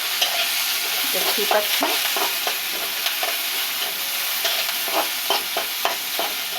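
Chopped onions and green chillies fry in a small amount of oil, a continuous bright sizzle broken by regular spatula scrapes and knocks against the pan, with a brief spoken remark partway through.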